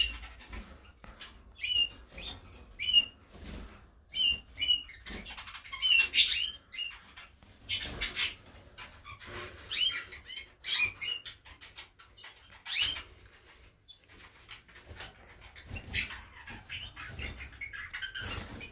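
Canaries in breeding cages chirping and trilling indoors, bursts of bright short calls and twittering scattered over steady faint background noise, fairly close.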